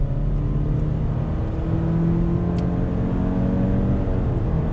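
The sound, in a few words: 2020 Subaru Legacy 2.5 engine accelerating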